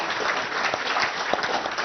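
An audience at a lecture on 9/11 dust breaks into steady, moderately loud applause, a continuous patter of many hands clapping at once with no voices over it.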